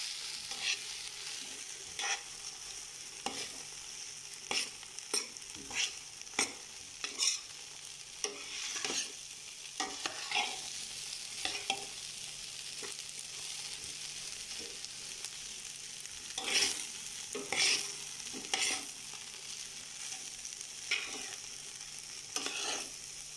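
Fried rice with bagoong being stirred in a hot pan, a constant soft sizzle punctuated by frequent sharp scrapes and taps of the spatula against the pan, with no talking.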